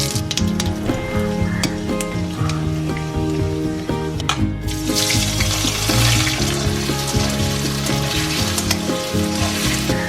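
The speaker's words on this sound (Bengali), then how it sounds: "ছোট ছোট করে আলু কেটে নিয়েছি। আলুটা প্রথমে একটু ফ্রাই করব।" Small diced potatoes fry loudly in mustard oil with panch phoron and dried red chillies, a dense close crackle and sizzle with stirring, under continuous background music.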